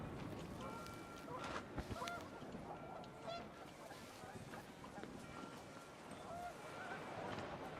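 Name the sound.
panicked geese honking in video game What Remains of Edith Finch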